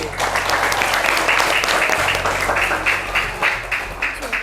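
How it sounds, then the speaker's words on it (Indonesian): A group of children at a Quran learning center in an Indonesian village applauds, dense rhythmic clapping with a voice speaking over it. "Tepuk tangan kelompok B."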